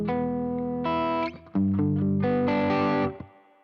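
A Glarry flame-shaped electric guitar rings out through overdrive and distortion, loud, sustained chords strummed twice with a short gap between them, each letting ring before decaying, with no voices.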